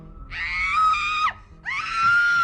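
A woman screams in a nightmare scene from the film Halloween H20, two long, loud, piercing shrieks separated by a brief gasping pause.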